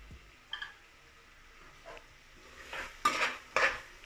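Garam masala stirred and fried in a pan for peas pulao: quiet scraping strokes, with a few louder metallic clinks of a spoon on the pan near the end.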